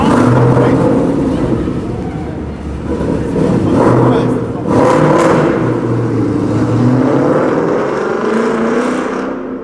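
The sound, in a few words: V6 car engine revving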